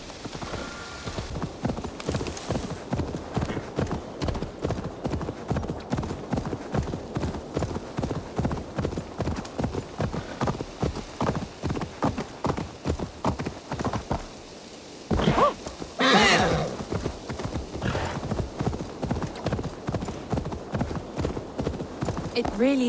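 Horse hooves clip-clop steadily as a rider travels in the video game Assassin's Creed Valhalla, a rhythmic stream of close hoofbeats with brief snorts and a louder jostle near the end, partly under speech.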